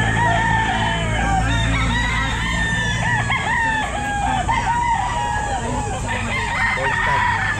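A gamefowl stag rooster crows repeatedly at a pet market, its calls loud and close over a steady background of market noise and other fowl.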